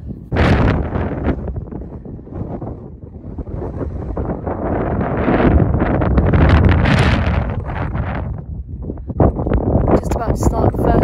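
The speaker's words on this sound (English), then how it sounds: "It's a bit wet and windy today" Strong gusts of wind buffet the microphone outdoors on a wet, windy hilltop during a pheasant shoot beaters' line, roaring in surges that swell and ease throughout.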